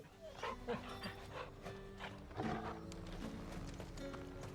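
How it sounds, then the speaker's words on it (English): A dog in the video game Final Fantasy 16 gives soft whimpers and small yips being petted, faint under game music and ambient background sound. "pet the dog."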